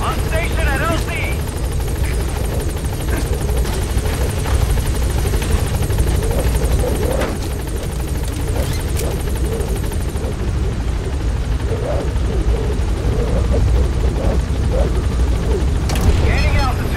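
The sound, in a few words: support helicopter B-Quad landing, from the video game Metal Gear Solid V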